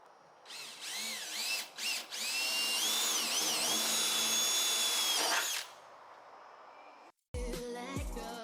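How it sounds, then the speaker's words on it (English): A power drill bores out spot welds on the body of a wrecked Tesla Model S P100DL, whining loudly in several sustained bursts with short pauses between them, followed by a brief clatter near the end. "let's go ahead and drill the spot welds here and cut this piece out"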